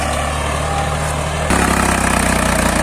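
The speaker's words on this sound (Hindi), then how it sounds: "ये ट्रैक्टर पूरा जोर लगा रहा है अपना" A New Holland 5500 55 HP 4x4 tractor ploughs a wet field under heavy load. Its engine drones loudly and steadily, with a slight surge in intensity halfway through.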